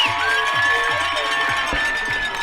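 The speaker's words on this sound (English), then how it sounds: "Listen to this crowd." Loud, sustained roar of a high school football crowd cheering and whooping after a big catch in a game between East Grand Rapids and Hoffman Estates, broad and continuous, with an announcer talking over it.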